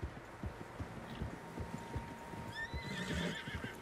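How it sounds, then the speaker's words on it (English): Horses in the video game Red Dead Redemption 2 clop along at a steady walking pace, with soft layered hoofbeats, while a whinny rises near the end over faint outdoor ambience. "Horses, quite a few of them."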